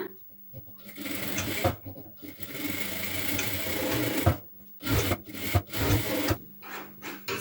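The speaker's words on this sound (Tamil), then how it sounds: "பேக் டாட்டையும் பிடிச்சிடலாம்." Sewing machine stitching the back dart of a blouse, a long continuous run of close mechanical whirring followed by shorter bursts, with a voice speaking in between.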